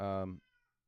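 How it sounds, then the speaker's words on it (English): A house cat gives a single loud, close meow lasting under half a second, followed by near silence. "my cat is calling for me"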